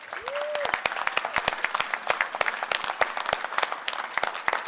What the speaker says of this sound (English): give a round of applause to all our volunteers who worked very hard to make this night possible